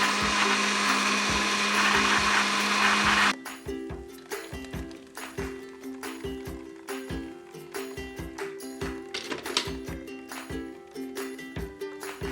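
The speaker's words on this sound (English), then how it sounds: "what we're going to do now is to go ahead and blend the almond and coconut" A kitchen blender whirs loudly as it blends almond and coconut for a Jamaican-style pumpkin and carrot juice. The steady roar cuts off abruptly and is followed by scattered clattering and handling knocks.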